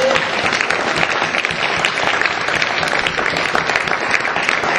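A church congregation applauding, dense sustained clapping that fills the space, loud and steady throughout.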